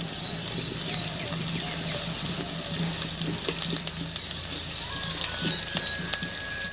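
Onion and nigella seeds frying in a pan, a steady close sizzle with faint crackles and occasional stirring scrapes throughout, no talking.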